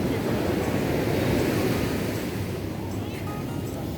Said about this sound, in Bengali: সমুদ্রের গর্জন সাথে সমুদ্রের মিষ্টি হাওয়া